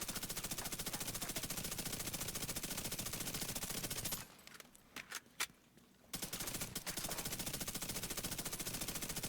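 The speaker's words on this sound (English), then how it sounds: "So here's me hip firing." Hip-fired automatic gunfire in The Division 2 rattles in rapid continuous bursts, loud and close, pausing briefly midway with a few scattered shots before the sustained fire resumes.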